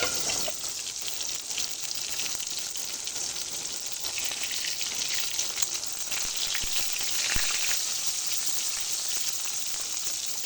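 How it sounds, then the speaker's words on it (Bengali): Pangas fish fries in oil in a pan with a loud, continuous sizzle and crackle, and a few sharper pops stand out over the steady hiss. "পাঙ্গাস মাছটা ভাজার সময় অবশ্যই আপনারা ঢাকা দিয়ে ভাজবেন, কারণ তেল ছেটে হাত মুখে লাগতে পারে।"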